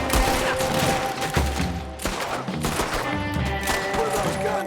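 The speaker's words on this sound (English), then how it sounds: "What are those guns they have?" Rapid gunfire from period guns in Red Dead Redemption, dense and continuous across the scene, with sharp cracks layered over a steady loud game soundscape.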